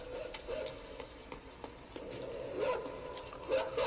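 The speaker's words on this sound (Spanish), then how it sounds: "¿Qué perro tan tonto?" A dog in the video game Inside barks and whimpers in short yips spread through the stretch, moderately loud against a dark game ambience, with a player's exclamations between.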